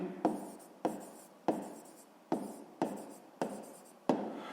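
Pen or chalk writing numbers during a sixth-grade math lesson, seven short scratchy strokes in an uneven rhythm, close and fairly quiet with no talk.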